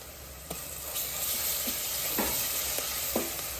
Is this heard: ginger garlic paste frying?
yes